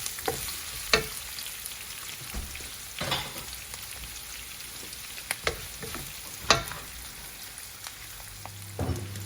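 Chopped onions sauté in a hot pan while pork adobo is being cooked, a steady low sizzle running throughout, with several sharp utensil clinks and scrapes scattered across it, close and moderately quiet.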